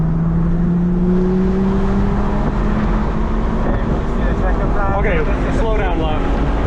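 A BMW accelerates hard on a race track, its engine note rising in steady tones with a clear upward shift late on, heard loud and close, as from inside the car, with some speech over it.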